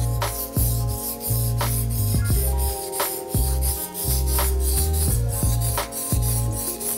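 A chef's knife is drawn across a sharpening stone in repeated short rasping strokes, a steady scraping rhythm close by, heard over faint background music with no speech.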